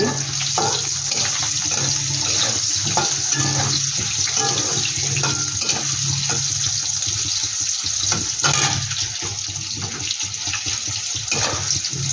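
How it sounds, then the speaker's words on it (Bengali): Six pieces of potato sizzle steadily in hot oil in a pan for a koi fish curry, a continuous loud frying hiss with scattered crackles throughout and no voices. "তাই আমি একটা আলু নিয়ে 6 পিস করে আলুটাকে একটু ভেজে নিচ্ছি।"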